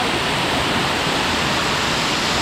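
Chinchoti waterfall near Naigaon gushes in a steady, loud, close roar of falling water that holds constant throughout without any voices.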